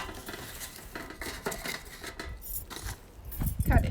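A lid is picked up and handled during seed planting, giving light clattering, scraping clinks of plastic or metal that rise to a louder rattle at the end.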